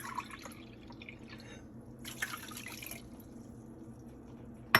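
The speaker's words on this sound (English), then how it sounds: "Then add the water." Water poured into a nasi lemak cooking pot already holding coconut milk, fenugreek leaves and seeds, and whole masala, giving faint, close drips and a soft splashing burst midway, with no one talking.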